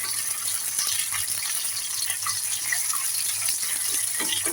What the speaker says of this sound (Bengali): শুকনো মরিচগুলোকে এমন ভাবে ভাজতে হবে যেন একদম ভিতরের বিচি সহ সিদ্ধ হয়ে যায়